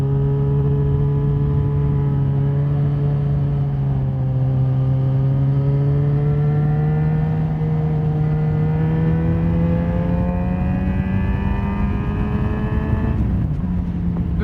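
A Yamaha XJ6 LAMS motorcycle pulling away, its engine note holding steady and gradually rising in pitch, then dipping briefly near the end as it shifts, loud and close throughout.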